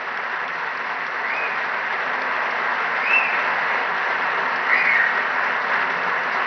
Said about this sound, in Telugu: పెద్ద ఎత్తున మీరు చప్పట్లతోని వారిని అభినందించండి.